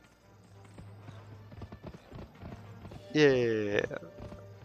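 Horse hooves clip-clopping in the video game Gun, a quiet rhythmic trot under a brief spoken word, followed by a loud horse whinny.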